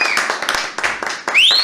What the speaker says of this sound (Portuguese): Quero muitas palmas.